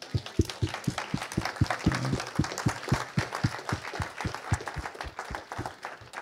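A church congregation applauds during a sermon in steady, rhythmic clapping, like a crowd clapping in time, loud and continuous throughout.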